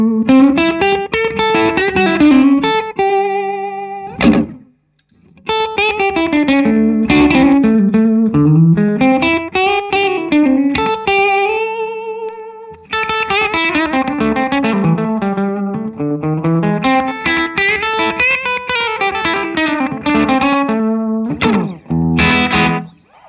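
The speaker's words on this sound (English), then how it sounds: "let's kick on my delay first. Really enjoying this dual blue delay set like this" A vintage Gibson ES-335 electric guitar runs through a dual blue delay, playing a loud, continuous melodic passage with echoing repeats and a slight gritty edge, broken by a brief pause near five seconds.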